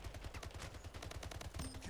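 Rapid automatic gunfire in the online shooter Splitgate, a dense string of repeated shots at a steady fast rhythm, fairly quiet and uninterrupted, with a brief electronic tone near the end.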